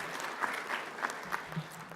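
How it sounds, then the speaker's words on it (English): Scattered applause from an audience at an Ethiopia-Canada business and investment summit, a few distinct clap bursts rising and fading over a quiet room, moderately faint and without talk. "Can we give them a round of applause again"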